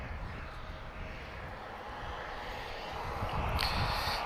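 An Airbus A321 airliner arriving at Lisbon Airport from Porto, heard as a continuous broad engine roar with airflow noise that swells gradually louder through the moment, steady and fairly distant, without voices.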